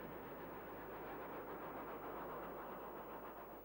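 Two Caprotti valve-geared Black 5 steam locomotives running, heard as a steady, even rolling rumble with a dense hiss of motion, constant in loudness throughout and without distinct separate beats.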